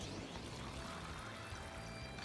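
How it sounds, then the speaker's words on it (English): Tea pours in a steady, continuous liquid stream during a scene in the role-playing video game Trails Beyond the Horizon, with no voices over it. "I'll pour you some tea."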